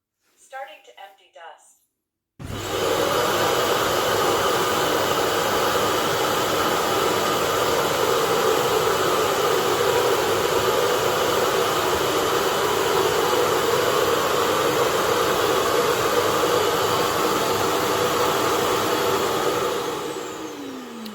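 A SwitchBot K10+ robot vacuum's base station empties its dust bin with a loud, steady suction roar that starts abruptly after a moment of quiet and runs for nearly twenty seconds before winding down; brief talk comes before it.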